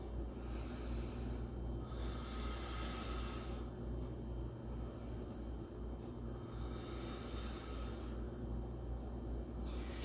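Slow, deep breathing from a person holding a yoga crescent pose, with long audible inhales and exhales repeating at an unhurried rhythm over a low, steady background hum.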